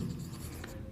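Pen scratching quietly as numbers are written down during a class 6 maths lesson on factors, a short soft stroke of writing with no talk.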